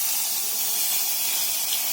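Onion paste and green chilli paste hitting hot oil for a Bengali eggplant curry, giving a steady, close, bright sizzling hiss that holds evenly for the whole stretch with no talking.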